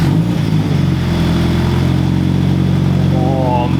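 A Toyota 86 GTS engine running through an X-Force catback exhaust, a loud, continuous, deep engine drone close by with a slight rise in pitch near the end.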